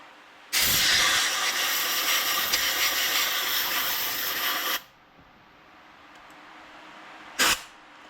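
An air nozzle blows compressed air through an ATV carburetor on a Kawasaki Brute Force 650, a loud steady hiss lasting about four seconds, followed by a short sharp second burst after a pause.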